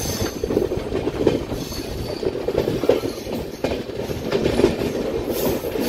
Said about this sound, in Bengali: ট্রেন ঢুকছে অমৃতসর জংশন ছাড়ার পর তার প্রথম স্টপেজ বিয়াস।